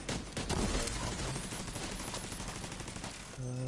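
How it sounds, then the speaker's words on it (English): Heavy gunfire and explosive blasts rattle through a raid boss fight in The Division 2, with incoming rocket launcher fire amid dense, continuous loud shooting, easing into a short burst of other game sound at the end. "Rocket launcher coming in."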